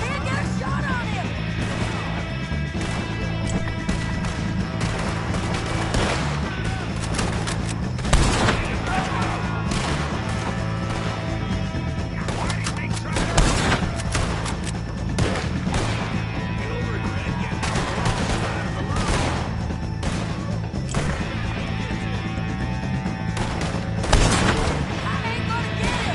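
Dense gunfire from a Red Dead Redemption 2 shootout pours on without a break, with repeated loud shots and heavier booms layered over game music and shouted voices.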